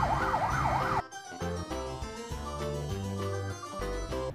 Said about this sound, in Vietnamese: Đây là xe cảnh sát của các tiểu vương quốc Ả Rập Thống Nhất.